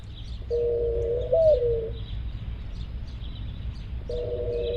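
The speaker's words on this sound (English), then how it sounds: "Well, that's a mourning dove." A mourning dove coos near a wall among trees, giving a clear, soft, drawn-out call with a rising swell, then starting a second call after a pause, over a low steady background rumble.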